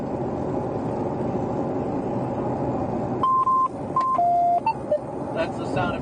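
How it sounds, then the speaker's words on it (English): A short run of electronic beeps, several steady tones of differing pitch in quick succession, cuts over a low engine-like rumble from a radio being switched off, close and clear. "That's the sound of me turning off the radio"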